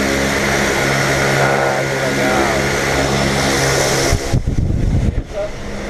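Skydiving airplane's engine and propeller roar loudly and steadily close by, a constant droning hum with strong tonal harmonics, while people talk over it; near the end the drone breaks into buffeting rushes.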